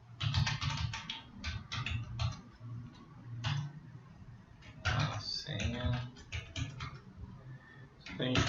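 Quick bursts of key clicks from a computer keyboard as a password is entered, close and crisp, with short pauses between runs of taps and a voice talking intermittently underneath.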